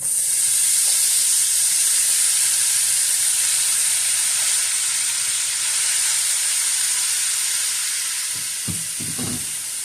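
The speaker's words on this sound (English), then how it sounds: "we're going to go ahead and get our beef in the pan here and do a quick sear" Beef searing in a brand-new pan for stroganoff gives a loud, continuous hiss and sizzle close up, with a few utensil scrapes near the end.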